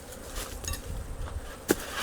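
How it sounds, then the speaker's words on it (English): Honey bees hum and buzz around an opened hive during a honey harvest, a faint steady drone with a sharper knock or tap near the end. "They got quite a few bees in there at least."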